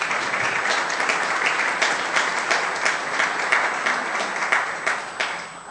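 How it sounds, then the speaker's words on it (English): A room full of people at a town board meeting clapping for award winners, a steady, dense round of applause lasting several seconds without letting up. "So let's give all the award winners a round of applause,"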